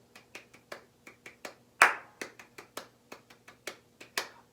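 Soft hand claps tapping out a mambo bell pattern, close and quiet, in quick irregular groups of sharp claps with brief gaps and one slightly louder clap partway through.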